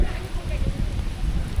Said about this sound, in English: It is absolutely pouring rain